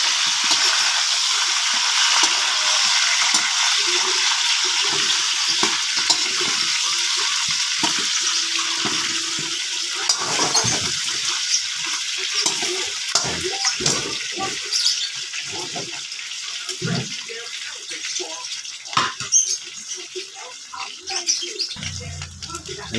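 Food sizzles continuously in a pan while it is stirred, with intermittent scraping and clattering bursts near the end and no talk.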